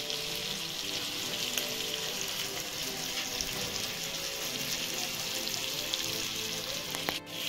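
Steady sizzling of Agri-style shingada catfish frying in masala in a covered pan over a wood-fired stove, a dense continuous crackle at even loudness with no talk.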